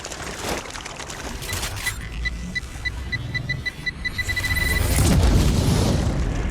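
A grenade blast in the sci-fi game StarRupture wipes out a swarm of alien bugs: a heavy, booming explosion with a rumbling tail, surrounded by game effects like short metallic beeps, crackles and a rising roar.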